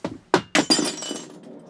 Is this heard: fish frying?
no